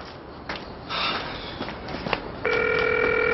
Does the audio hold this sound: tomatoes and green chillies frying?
no